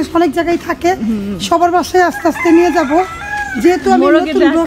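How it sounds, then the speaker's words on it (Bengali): A rooster crows by a roadside in a Bangladeshi village, heard under continuous close talking. "ওই যে দেখুন রাস্তার পরে মোরগ ডাকতেছে।"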